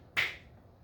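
A single sharp hand clap rings out once, close and crisp, during a children's phonics lesson as the alphabet song is sung, then quickly fades to quiet.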